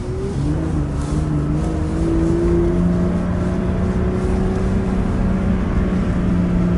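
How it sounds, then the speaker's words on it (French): A BMW car with the N55 engine drives with its windows open, a steady engine drone with a few rising harmonic tones as it pulls, loud and continuous throughout with no talk. "on va ouvrir les fenêtres pour entendre un petit peu la sonorité du moteur N55 qui est super sympa"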